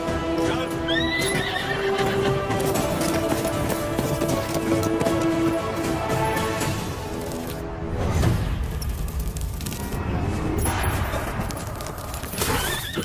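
A horse whinnies loudly near the start, then hooves clip-clop and run, close and prominent. The scene comes from a dramatic South Indian action film, with other effects and voices around the horse.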